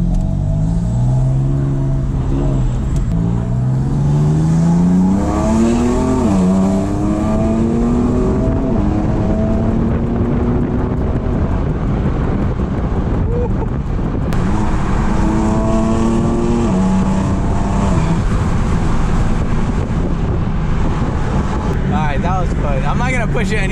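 A BMW M3 engine with a dual-clutch transmission revs hard and climbs through the gears, rising and dropping in pitch with loud, raspy rumble close by, voices occasionally under it.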